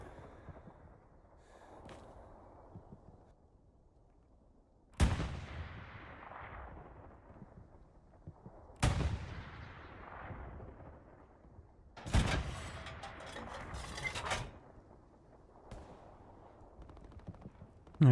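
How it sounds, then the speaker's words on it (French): In the video game Hell Let Loose, sharp gunshots and heavier blasts crack out over a quiet background, with a few loud reports and a short burst of sustained firing spaced across the stretch. "On entend les tirs qui arrivent là."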